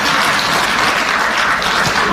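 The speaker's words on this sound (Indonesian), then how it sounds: "Boleh kita kasih tepuk tangan?" Audience applause fills a public debate for Gowa regent and vice-regent candidates, a dense, steady burst of clapping from a crowd, loud and close throughout.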